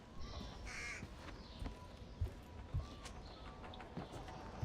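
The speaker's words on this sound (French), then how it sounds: "Les mouvements brusques dérangent les oiseaux, ce qui alerte toute personne à proximité" Crows cawing in a forest in The Thief video game, a few harsh calls scattered over a low steady ambient bed with occasional soft thuds, moderately distant and fairly quiet.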